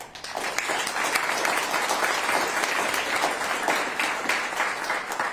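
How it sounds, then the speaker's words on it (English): Steady audience applause at a West Virginia governor's news conference, dense continuous clapping that holds at an even level for several seconds without talk over it. "You're working hard, and you deserve a round of applause."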